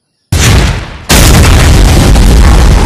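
Toy M16 rifle fired outdoors, giving a loud sudden blast that dips briefly and then bursts again into sustained, dense noise for over a second.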